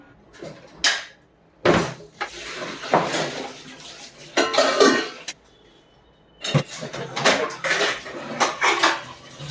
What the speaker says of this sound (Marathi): सर्वात आधी ते मी भांडी घासून घेते